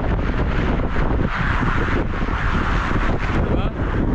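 Strong gusting wind roars steadily across a farm field as a typhoon approaches, a loud, continuous rush buffeting the microphone throughout.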